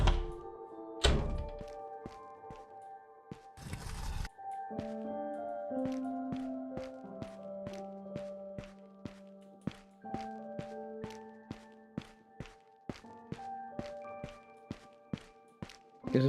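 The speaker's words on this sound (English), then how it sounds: "I can hear her walking around." Footsteps of a video game character walking around, a steady series of sharp taps and thuds under a game soundtrack, with a few louder knocks mixed in.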